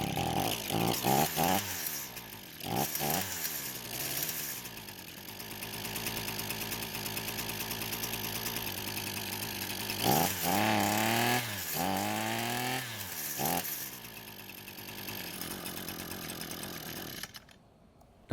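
An Echo string trimmer's small two-stroke engine buzzes close by, with several quick revs that rise and fall, then a longer climb to high revs and back, before it cuts off abruptly at the end.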